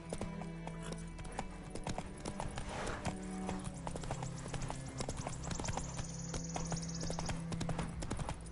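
Hoofbeats of the horse Roach galloping in The Witcher 3 video game play as a rapid, rhythmic clip-clop throughout, fairly close and steady, mixed with game ambience and music.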